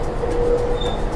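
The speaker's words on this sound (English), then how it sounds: "so this is our train to Old Harbour. That's the locomotive there." The locomotive of the train to Old Harbour, Jamaica, rumbles steadily nearby, a low continuous engine drone with a faint whine, and no voices.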